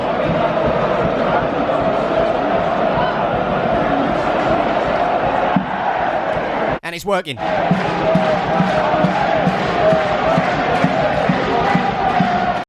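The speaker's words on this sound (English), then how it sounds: "This one G'ing up the crowd, keeping the atmosphere going." Football crowd at John Smith's Stadium, home of Huddersfield Town, kept loud and continuous by a fan geeing them up, with a brief dip midway and a voice speaking over the din.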